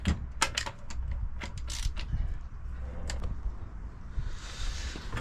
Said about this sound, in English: Undo your locking nut by hand first.